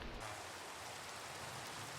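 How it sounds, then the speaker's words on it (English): Rain falls steadily over a village in the Minecraft video game, an even, soft hiss that continues without pause and without any voices. "it's raining in the village."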